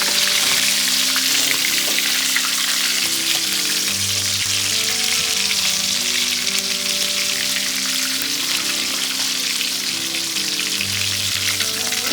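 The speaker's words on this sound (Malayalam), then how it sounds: "ഇനി നമുക്കിത് പൊരിയെടുക്കാം" Chicken pieces fry in hot oil for chicken mandi, a loud, unbroken crackling sizzle heard up close throughout, with a low background hum and no talking.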